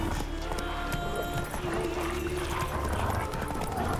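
The horse Roach galloping in The Witcher 3, a rapid run of hoof clip-clops rolling steadily under a busy game soundscape, with talk mixed in.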